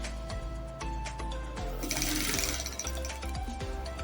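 A sewing machine runs steadily, stitching a trouser seam twice, with a continuous motor hum and fast needle chatter that briefly rises in intensity midway.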